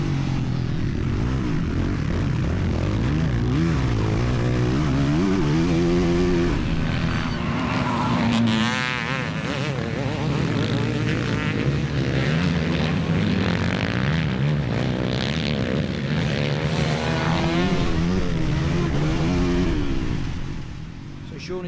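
Dirt bikes race in motocross, one chasing a Kawasaki, engines revving and whining loudly with rising and falling pitch as they pass, while a commentator talks over them.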